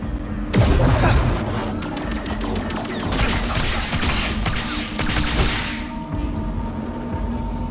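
Gunfire in a Starfield firefight: a loud blast opens a burst of rapid shots, followed by further volleys of dense, crackling fire that fade toward the end, with no talking over it.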